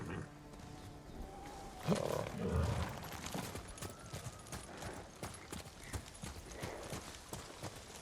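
Hooves clip-clop in a quick galloping rhythm, with a burst of growling and roaring noise partway through, set against a soft game soundscape from Ghost of Tsushima.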